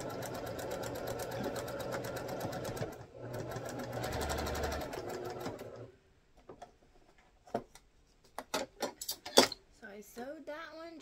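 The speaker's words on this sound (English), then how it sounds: "my sewing machine has sounded really loud in these videos" A sewing machine whirs steadily for several seconds, then stops; a few sharp clicks and a voice follow in the quieter stretch.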